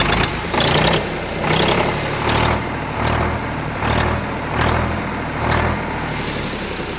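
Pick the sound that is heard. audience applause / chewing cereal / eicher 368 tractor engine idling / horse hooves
eicher 368 tractor engine idling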